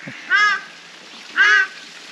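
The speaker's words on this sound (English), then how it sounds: "And the ducks are welcoming us." Two separate honking calls from ducks or geese at an ornamental pond with large fish and a walkway, moderately near, over a quiet outdoor background.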